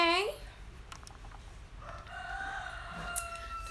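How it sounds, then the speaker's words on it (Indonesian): A rooster crows briefly and loudly at the very start, its harmonic call fading quickly, followed by faint background noise and a few soft indoor sounds. "Tuh kan, ah, ada ayam."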